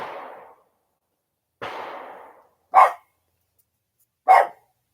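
Barking from the neighbor's dogs next door, two longer fading barks followed by two short sharp ones, clear against otherwise quiet surroundings.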